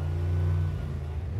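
A car engine is held at raised revs during a roadside police noise test in Hamburg, a loud steady rumble with a deep drone that wavers slightly as the revs are pushed higher and held.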